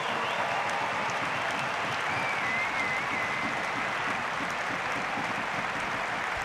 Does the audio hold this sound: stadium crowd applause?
yes